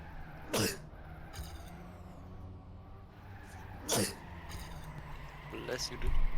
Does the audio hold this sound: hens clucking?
no